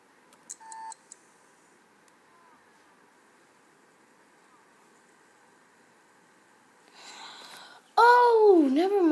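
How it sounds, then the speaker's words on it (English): An alarm clock in The Sims 3 video game gives a few quick, quiet beeps near the start, followed by near silence. A louder game sound and a voice come in toward the end. "That's probably the alarm clock."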